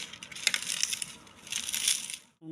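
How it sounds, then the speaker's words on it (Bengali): Crispy fried drumstick stems crumbling, giving bright, dry crackling and crunching in quick bursts, close and fairly loud for about two seconds before stopping. "কত সুন্দর মুচমুচে হয়েছে একদম গুঁড়িয়ে যাচ্ছে"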